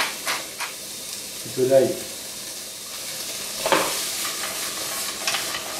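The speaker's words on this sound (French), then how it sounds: "Une poêle bien chaude. Je vais juste les poêler rapidement." Vegetables sizzle in a very hot pan for a quick sauté, a steady frying hiss broken by brief stirring clatters, with someone talking briefly over it.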